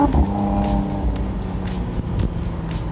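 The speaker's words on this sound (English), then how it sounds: "at the heart of the Artura Spider is still the 3-litre twin-turbo V6, configured at 120 degrees" McLaren Artura Spider with its retuned 3-litre twin-turbo 120-degree V6 drives on the road, a steady close engine drone with tire and road noise and a brief surge near the two-second mark, no voices.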